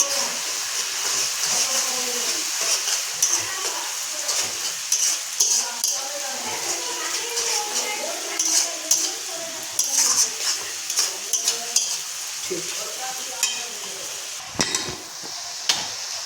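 Chili and turmeric powders are stirred through a kadai while cooking mutton curry, with a soft background sizzle broken by repeated scraping and metallic clinks of a spoon against the pan.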